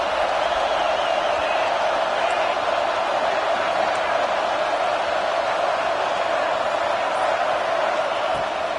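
A stadium crowd at a Clemson versus Georgia football game roars steadily behind the defense during a red-zone stand, a dense, continuous wall of cheering that stays loud and even throughout.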